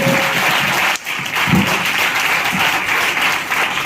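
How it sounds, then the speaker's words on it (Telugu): A church congregation claps loudly and steadily, a thick continuous roar of hands that dips for a moment and then carries on unbroken. "Yes, clap. చప్పట్లు కొట్టండి."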